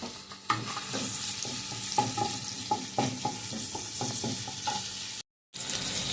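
Onion and curry leaves fry in hot oil with a continuous sizzle, punctuated by repeated clinks and scrapes of a spoon stirring against the pan, close up, with a brief dropout near the end.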